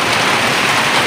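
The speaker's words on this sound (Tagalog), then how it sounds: "So lumakas na yung ulan." Heavy rain pours down outdoors at a pigeon race in Santa Fe, Nueva Vizcaya, a loud, dense, unbroken hiss with no voices.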